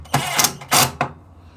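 A power driver runs screws into wood in two or three short whirring bursts, loud and close, each stopping abruptly.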